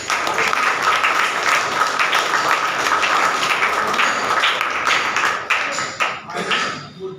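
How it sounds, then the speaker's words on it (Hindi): Audience applause at a Children's Day school gathering, a crowd of many hands clapping steadily, then thinning out toward the end. "उनका तालियां बजाकर अभिनंदन करना चाहिए"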